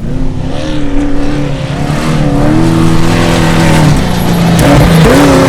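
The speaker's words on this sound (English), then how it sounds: "Something about just taking a trophy truck down to the beach and going as fast as you can right along the coast is pretty rad." A trophy truck races flat out along a beach during the Baja 500, with its loud engine roaring and rising in pitch across several gear changes, close and continuous.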